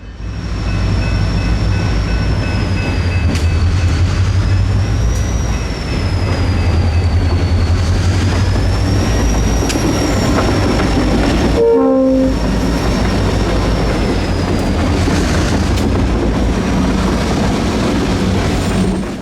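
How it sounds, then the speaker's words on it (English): A diesel locomotive's Leslie air horn, on an SD40-2, blares in long, loud sustained blasts over the heavy rumble of a passing train, with a brief pause near the middle. "equipped with a beastly Leslie air horn"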